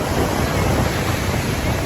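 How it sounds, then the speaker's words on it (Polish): Loud, continuous roar of large ocean waves crashing nearby at Bondi Beach, Sydney, a dense wash of churning water with wind rumbling across the microphone. "Woda zimna. Duże fale."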